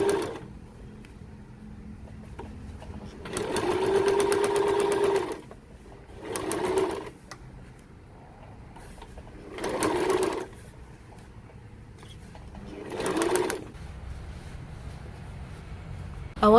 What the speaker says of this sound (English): Next step is top stitching around the flap and the bag's opening.